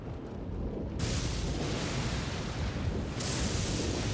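The Massive Putrescence spell in the video game Elden Ring, a sustained rumbling, roaring blast that swells suddenly and then surges again, loud and continuous for several seconds.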